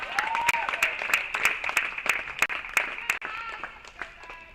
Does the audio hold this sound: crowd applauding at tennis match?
yes